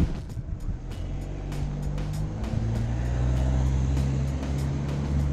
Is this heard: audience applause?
no